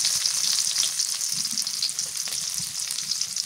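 Onion and black cumin fry in hot oil, producing a close, steady crackling sizzle with small irregular pops and a few soft stirring sounds throughout.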